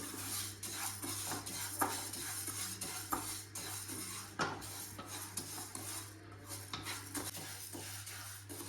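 Split green gram (moong dal) dry-roasting in a pan for payasam, with steady scraping and clinking of a spoon stirring against the metal, close and continuous, no voices.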